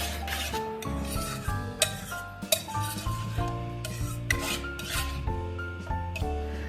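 Homemade tomato ketchup for pizza is stirred in a bowl, with repeated close scraping and rubbing strokes and occasional light clinks over tonal background music.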